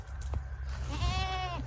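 A goat on a ranch gives a single wavering bleat, close and clear over low rumbling background noise.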